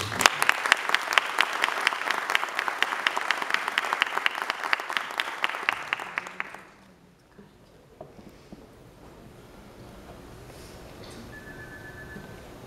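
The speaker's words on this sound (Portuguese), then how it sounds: "Por favor, uma salva de palmas para o professor Dr. Sérgio Gobetti." An audience at an economics conference claps for a professor being introduced, a loud crisp round of many hands for about six seconds that stops abruptly, leaving quiet room noise and faint murmurs.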